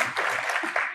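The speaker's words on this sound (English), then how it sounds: "Come on, give Paige a round of applause." Studio audience applause on a TV talk segment, a brief burst of dense clapping lasting about a second, with a faint voice mixed in.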